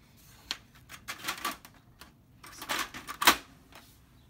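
Sticker paper goes into a Brother HL-L2320D laser printer, a string of close, sharp clicks, taps and paper rustles in uneven bursts, ending in one louder snap, with no voices.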